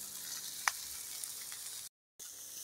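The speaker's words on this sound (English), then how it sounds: "we're grilling right on down to the New York strip steaks" New York strip steaks sizzle on an outdoor grill with a steady broadband hiss, a sharp pop near the start, then a brief cut to silence before the sizzling resumes.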